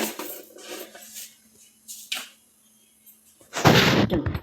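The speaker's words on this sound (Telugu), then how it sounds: "రెండు స్పూన్లు అండి ఆయిల్ వేసుకుంటున్నాను ఆవల జీలకర్ర వేసుకుంటున్నాను" Mustard and cumin seeds crackle in two spoons of hot oil, with scattered small pops at first and then a loud, dense burst of sizzling spatter near the end.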